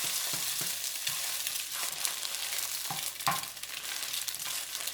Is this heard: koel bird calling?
no